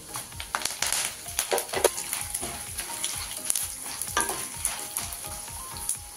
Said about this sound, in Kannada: ನೋಡಿ, ಇವಾಗ ಇದು ಚೆನ್ನಾಗಿ ಫ್ರೈ ಆಗಿದೆ.